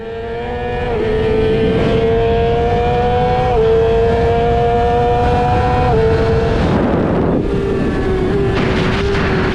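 Yamaha R6 racing motorcycles scream down a track straight in a drag race, one loud, high-revving engine holding steady pitch with brief gear-shift dips and a second bike's engine layered alongside, no talking.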